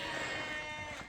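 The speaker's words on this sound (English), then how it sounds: "Are you trying to make him a show sheep, Arnie?" A bottle-fed sheep on a sheep farm gives a single drawn-out bleat lasting about a second, loud and close, with no talk over it.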